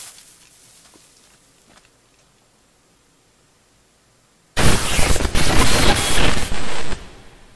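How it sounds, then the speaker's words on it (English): After a quiet stretch, a sudden harsh burst of loud, noisy blast from an EMP explosive detonating in a video game erupts and roars on for a few seconds before cutting off abruptly. "that EMP explosion is designed to take out satellites or anything electrical"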